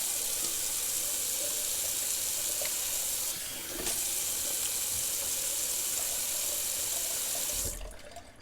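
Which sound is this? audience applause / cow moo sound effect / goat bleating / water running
water running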